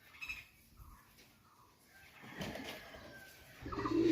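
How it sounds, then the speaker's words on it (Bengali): A male Jaldar Kachuri pigeon, a Pakistani breed, coos softly amid faint rustling, the low cooing quiet and intermittent before a slightly louder stir of movement at the end. "এটা হলো নর, জালদার কাচুরি নর কবুতর"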